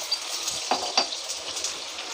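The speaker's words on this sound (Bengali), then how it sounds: "আলুগুলো একটু ভেজে দিলে দেখতে ভালো লাগবে খিচুড়িতে" Potatoes seasoned with salt fry in oil in a pan for egg and soya khichdi, giving a soft, steady sizzle close by with a couple of light stirring clicks.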